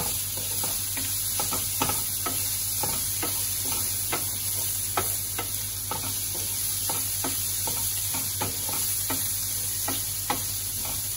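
Food for vegan mac and cheese frying in a pan on the hob, a continuous sizzle and hiss under frequent sharp spatula taps and scrapes, close and steady throughout.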